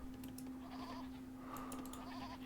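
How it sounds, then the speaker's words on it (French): Sheep bleat twice in quick succession, soft and somewhat distant over a steady hum and faint background ambience in the strategy game Age of Empires 2 DE. "Petit mouton."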